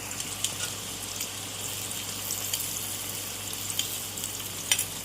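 Vegetables frying in a pan with egg and shrimp added, a soft steady sizzle with occasional scraping stirs and small clicks of a utensil, fairly quiet and close, no talk.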